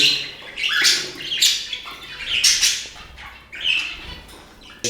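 Budgerigars and parrots squawk in a bird room, a run of harsh, bursting calls repeating every second or so, close and fairly loud.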